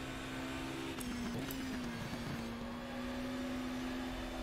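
Steady engine drone of a 1994 BTCC touring race car at Silverstone National in GTR 2, a constant mid-loud hum with a slight pitch wobble, no talk.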